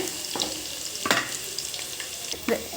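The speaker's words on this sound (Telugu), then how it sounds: "గోల్డ్ కలర్ వచ్చే వరకు వేపేసాను వెల్లుల్లి" Garlic frying in oil until golden for an Indian gooseberry chutney, giving a steady close sizzle with occasional scraping stirs and light crackles.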